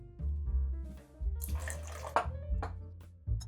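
Gin, lemon juice and simple syrup poured into an ice-filled cocktail shaker, close, soft splashing and trickling liquid in short pours with small clinks against the ice.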